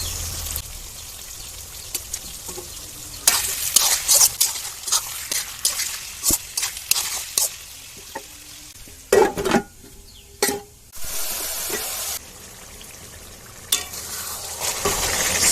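Onions fry in oil with ginger-garlic paste for a chicken curry, giving a steady sizzle broken by repeated bursts of stirring and spoon scrapes against the pan, close and clear, with no talk.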